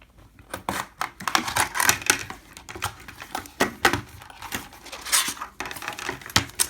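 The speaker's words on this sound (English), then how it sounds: "we are now ready to bring the screwdriver to get into the box, cut open" A screwdriver slices open a box holding a gold iPhone 8 Plus case, producing a dense run of close, irregular clicks, taps and scraping crackles.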